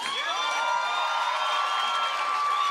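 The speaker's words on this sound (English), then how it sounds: "Can we give one more round of applause for Alistair?" An audience at a ten-year celebration event cheers and whoops for a performer named Alistair, a steady crowd roar sustained throughout without a break.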